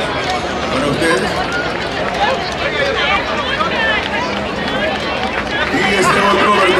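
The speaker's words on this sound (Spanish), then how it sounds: "Un fuerte aplauso también para ustedes" Crowd applause at a Salvadoran festival, a loud sustained wash of many hands clapping with cheering and chatter mixed in, sounding close and steady throughout.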